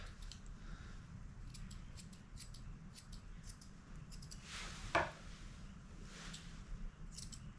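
Quiet, repeated crisp snips of grooming scissors cutting a Bichon Frise's hair, irregular and close, with one louder snip midway over a soft background hum.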